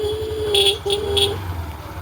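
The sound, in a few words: scooter horn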